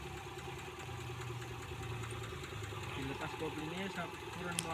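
A motorcycle engine with a rough, unsteady idle that tends to stall runs at about 700 RPM, a steady low chugging heard close up, with someone talking over it.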